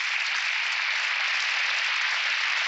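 A large arena crowd of about twelve thousand at a figure skating event applauds, a dense, even wash of clapping sustained throughout, distant and uniform with no voices.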